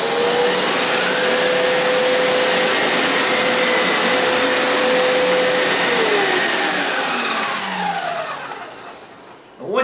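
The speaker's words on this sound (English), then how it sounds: "I'm just going to use it as a vacuum, and that's going to suck up any remaining water that I have" A carpet cleaner run as a wet vacuum, sucking up leftover water: a loud, steady motor whine with a high airflow hiss that holds constant, then eases and dips near the end before briefly surging again.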